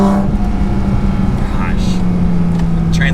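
A Porsche 718 Cayman GT4 RS Weissach drones loudly and steadily from inside the cabin on a test drive, its engine and exhaust note gliding slightly in pitch while an occupant talks over it.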